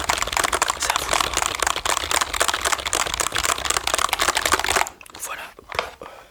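Fingers type rapidly on a mechanical computer keyboard, dense close clicking and clacking with a softer, sparser stretch of keystrokes near the end.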